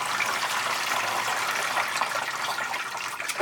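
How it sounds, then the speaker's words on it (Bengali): Cold water gushes and splashes over cooked pasta in a continuous stream for a few seconds, close by, ending abruptly. "ওপর থেকে ঠান্ডা জল দিয়ে দেবো তাহলে চিটে ধরবে না"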